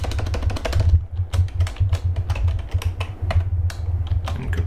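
Rapid typing on a computer keyboard while a password is entered during a Nagios Core 4.2.4 server install, with close, clicky keystrokes in quick irregular bursts over a steady low hum.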